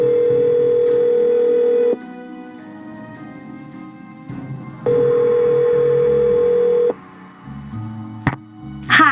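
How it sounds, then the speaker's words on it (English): Touch-tone phone in the Nancy Drew game Stay Tuned for Danger: two long steady ring or dial tones separated by quieter stretches, with short dialing blips near the end, clear and close with no voices. "let's go ahead and call Bess and George"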